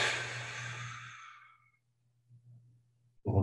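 A long, breathy exhale during a relaxation exercise, released while tension in the fists is let go. It starts loud and close, fades slowly over about a second and a half, then quiet remains with a low hum and a soft breath at the end.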